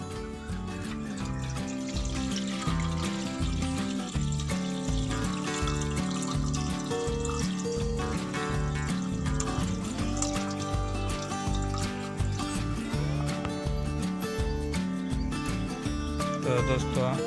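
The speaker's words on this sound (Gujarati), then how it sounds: "મકાઈના દાણાને 2-3 પાણીએ ધોઈ નાખશો તો એમાંથી જે આ ફોતરા નીકળી જાય" Corn kernels rinsed in water two or three times to remove the husks for corn chaat, with continuous sloshing, dribbling and clattering of wet kernels in a vessel, fairly close and steady throughout.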